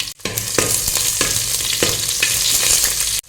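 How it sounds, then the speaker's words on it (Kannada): A small onion sizzles loudly in a hot pan with mustard seeds, steady frying hiss broken by several sharp scraping stirs of a spoon, close and without talk. "ಇವಾಗ ಒಂದು ನೀರುಳ್ಳಿ ಹಾಕ್ಕೊಳ್ತೇನೆ, ಸಣ್ಣದು. ಸ್ವಲ್ಪ ಫ್ರೈ ಮಾಡ್ಕೊಳ್ಳುವ."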